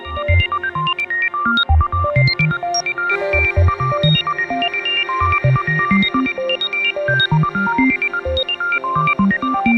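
High-pitched synth notes drenched in Valhalla Supermassive reverb play a quick, rhythmic arpeggio-like pattern over pulsing low thumps, each note blooming into a long shimmering tail, with no voices.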